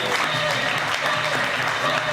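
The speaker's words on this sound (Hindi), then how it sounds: "जोरदार तालियां दीदी के लिए।" Hearty applause from a seated group at a leadership training session, a dense, even wash of clapping that holds steady for a couple of seconds with faint voices mixed in.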